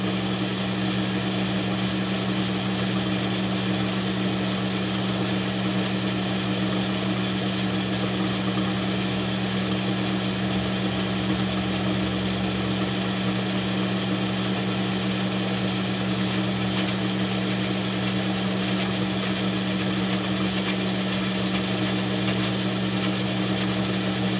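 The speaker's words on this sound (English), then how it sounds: "this lathe spins a whole lot truer" A new lathe spinning steadily and running true, giving a continuous even motor hum with a constant low drone that holds unchanged from start to finish, with no talking over it.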